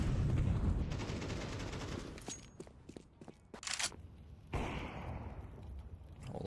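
Gunfire from SMGs in a competitive first-person shooter match crackles in quick bursts and scattered shots, fairly quiet and mixed with footsteps and game ambience, with no voices over it.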